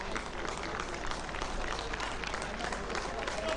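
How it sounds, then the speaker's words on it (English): Spectators on the sidelines of a school rugby match between Maritzburg College and Durban High School clap together in a steady, dense patter, with crowd voices underneath. "Received an honorary clap from the DHS and college boys watching on the sidelines"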